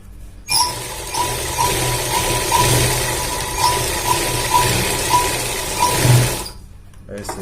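A sewing machine stitches the back pocket of a pair of pants in one continuous mechanical whir with a faint rhythmic ticking. It starts abruptly and stops near the end, with a person talking softly underneath.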